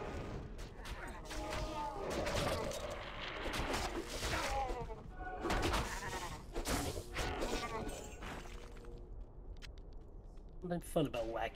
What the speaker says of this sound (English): Something fun about whacking these goats.